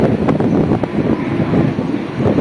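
Strong wind buffets the microphone in a continuous low, gusty roar, with no voices heard.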